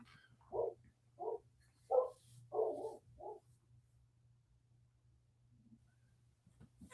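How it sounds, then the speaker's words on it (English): A dog barks several times in the background of an indoor recording, a short series of close, moderately loud barks followed by quiet, with a faint voice near the end. "Apologize for any dog noise that gets picked up in the background."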